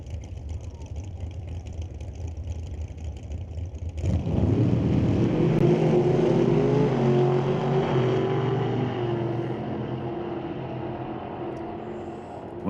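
Two cars drag racing side by side down a strip, one a 2004 Pontiac Grand Am, as steady engine drone jumps to a loud, full roar of accelerating engines that holds and slowly fades toward the finish.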